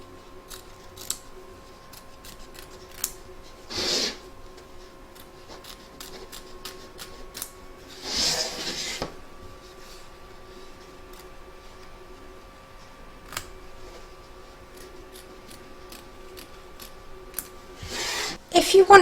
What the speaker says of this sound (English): Trim away the excess fabric from both the front and back of your hoop,